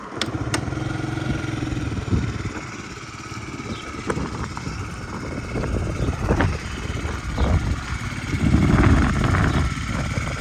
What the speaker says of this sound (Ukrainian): Так, по двигуну. Гарно, тихо, без зауважень працює.